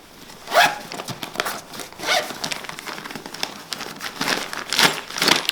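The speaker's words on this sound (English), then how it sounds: "you would unzip this compartment here on both sides of the bag." Zipper pulled open on a backpack compartment of a Triple Aught Design Meridian Transport Case, heard as several short rasping zips and crinkly fabric rustles spread across a few seconds, close and fairly quiet.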